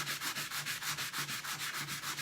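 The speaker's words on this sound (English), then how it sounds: "But you just sand it down nice and flat" A sanding block is rubbed back and forth on a wooden furniture drawer to smooth it flat, giving a brisk, even rasp at a regular pace of roughly four strokes per second, close and alone.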